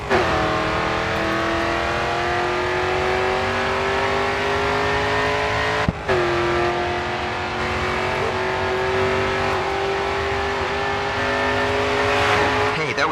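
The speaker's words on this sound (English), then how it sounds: "All right, full throttle now, coming onto the final straight." Race car engine held at full throttle on the final straight in Grid 2, a loud, steady high-pitched roar that climbs through the gears with one brief shift break midway and constant volume throughout.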